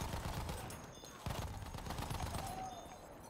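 An MG 15 machine gun fires in Battlefield 1 on the Amiens map during a Conquest match, rapid dense bursts of automatic fire with a short gap midway, fairly faint amid battle noise.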